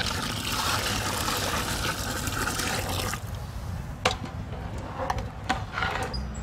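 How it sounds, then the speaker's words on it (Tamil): Water pours steadily into a cooking pot of rice for prawn biryani with a rushing, splashing sound for a few seconds, then stops, followed by a few light clinks and drips. "இப்போ வந்து நம்ம தேவையான அளவு தண்ணி ஊற்றிக்குவோம்"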